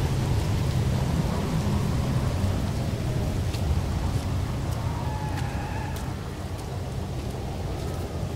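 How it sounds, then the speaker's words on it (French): Heavy toxic rain on a tropical planet in No Man's Sky, a dense, steady downpour roar with low rumbling underneath and a few faint tonal blips, with no voices. "Forte pluie toxique, tropicale normale"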